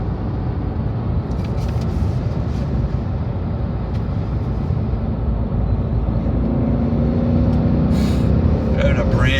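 A 2008 Audi B7 RS4 with a manual gearbox cruises in sixth gear, its steady engine drone and road noise filling the cabin evenly throughout, with voices talking over it.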